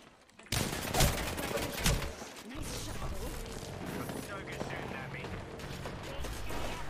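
Rapid bursts of gunfire and weapon clatter from the video game Apex Legends fill the mix, dense and loud, with players talking over the shooting.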